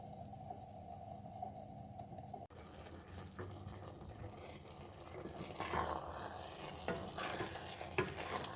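A spoon stirs eggplant pickle in a pan after pomegranate paste is added, giving soft scraping and gentle sizzling that builds toward the end, close and fairly quiet.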